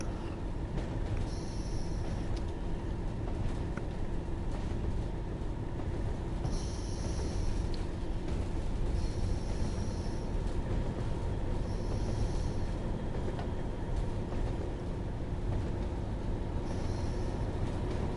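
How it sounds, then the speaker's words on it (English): Diesel locomotive engine idling and rumbling steadily in Train Sim World 6, a constant low drone with faint periodic higher tones on top, no talk. "At last, locos with some noise and clag."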